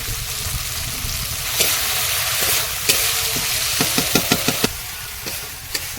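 Spice paste with green chilli sautéing in oil in a pan for a fish curry, a continuous close sizzle with a cluster of sharp scraping stirring clicks from a spoon, loud and steady with no talking.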